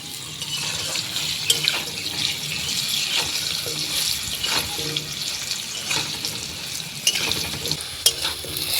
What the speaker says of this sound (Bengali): সামান্য একটু হলুদের গুঁড়ো লবণ হলুদ দিয়ে আলুগুলোকে ভালোভাবে ভেজে নেব